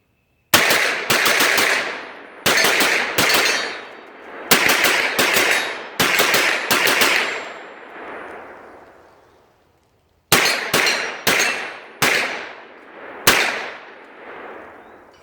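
Rapid rifle fire from an MPX-C and an AR fitted with a Tac Con trigger, sharp loud shots in fast clusters of two to four with ringing decay, separated by short pauses.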